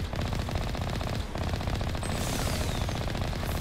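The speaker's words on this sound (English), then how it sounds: "Oh, those are my machine guns." Machine guns fire in the video game Mass Effect Legendary Edition, a dense, continuous rattle of rapid shots running loud throughout.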